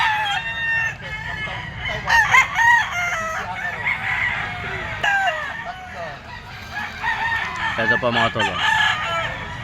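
A yellow-legged banderado gamecock crows several times, mid-distance, with other roosters clucking and crowing around it in a busy cockfighting-bird market, and someone talks briefly over the calls.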